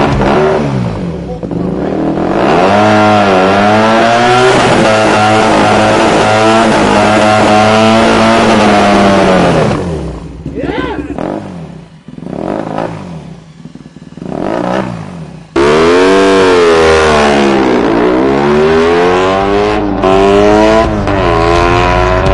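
A BMW R 18 dragster motorcycle built by someone, loud and close, revs in first gear and accelerates hard with rising and falling engine sweeps, cuts off partway, then roars again; brief voices between runs.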